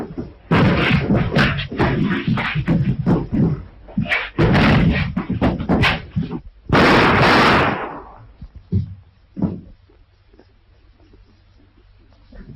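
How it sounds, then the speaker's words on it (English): Someone repeatedly pounds on a table in an old western film scene. A loud, dense barrage of heavy thumps and bangs fills the first several seconds, then scattered knocks trail off into a quieter room. "What are you hitting the table for?"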